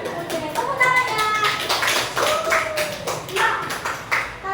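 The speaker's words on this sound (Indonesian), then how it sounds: "Oke, tepuk tangannya." Children in a classroom clap their hands in a quick burst of taps, mixed with a teacher's voice and kids' chatter over the top.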